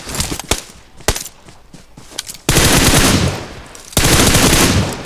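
Loud PUBG Mobile gunfire on the Livik map: a few separate single shots first, then two long, sustained automatic bursts that dominate up close.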